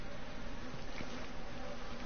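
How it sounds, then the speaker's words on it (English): Flies buzzing in the psych-ward setting of the horror game Outlast, a faint continuous droning hum of insect wings holding steady throughout. "Damn, flies."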